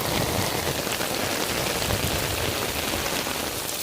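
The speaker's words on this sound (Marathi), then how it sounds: "आता पाऊस खूप असा डेंजर पाऊस आला आहे" Heavy monsoon downpour over rice paddies in the Konkan, a loud, dense and unbroken roar of rain hitting surfaces, steady from start to finish with no voices.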